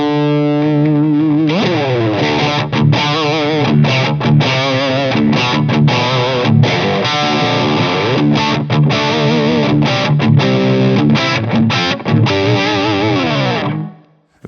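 Electric guitar through a Tube Screamer overdrive pedal set at noon into a Blackstar St James JJN 50-watt head, playing loud distorted riffs with sustained chords and quick bends for about fourteen seconds before cutting off.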